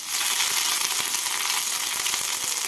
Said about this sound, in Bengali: তেলটা গরম হয়ে গেছে, এর মধ্যে আমি দিয়ে দিচ্ছি 1 টিস্পুন জিরে আর দিয়ে দেব অল্প গ্রেট করা আদা